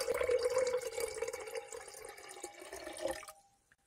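Water pours into a container to dilute nitric acid during gold extraction from connector pins, a close, bubbling liquid stream that gradually trails off and stops near the end, with no talking.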